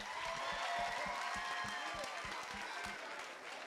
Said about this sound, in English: I was expecting to hear a clap